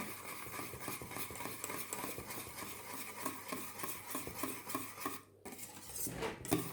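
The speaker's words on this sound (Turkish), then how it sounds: "Şimdi bunları da bu şekilde karıştıralım çırpıcıyla." A whisk clatters rapidly and rhythmically against a bowl, beating a vanilla sugar mixture close up, with a brief pause and a few scraping taps near the end.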